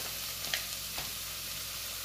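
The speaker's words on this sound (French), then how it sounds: "il faut que le riz il chante un peu" Rice poured into a pan with softening onions gives a steady, gentle sizzle as it toasts, with a couple of faint clicks and no talking.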